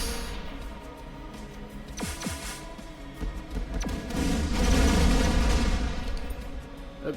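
A fireworks weapon goes off in the ShellShock Live artillery game, with a few scattered pops and cracks building into a dense, rumbling barrage of bursts that swells toward the end.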